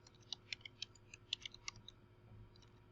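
Quiet keyboard typing: a quick irregular burst of light key clicks, then a pause, with a low hum underneath.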